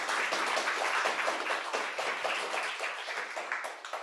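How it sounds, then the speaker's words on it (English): An audience at an evening restorative-justice talk gives Keith a round of applause, a dense, steady patter of many hands clapping at moderate volume that tapers slightly toward the end, with no voices. "Could everybody give Keith a big round of applause?"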